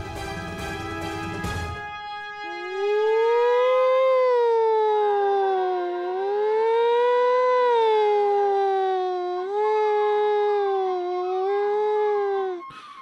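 A person vocally imitates an ambulance siren, a loud, steady wailing tone that rises and falls in slow sweeps for about ten seconds after a brief burst of noise.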